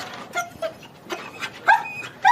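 A dog gives several short yips and whimpers close by, in brief separate bursts during an attack-dog training session.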